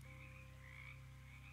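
Frogs croak in the video game Shadows over Loathing, a steady low pulsing drone with faint higher chirps layered over it, continuous and quiet with no voices.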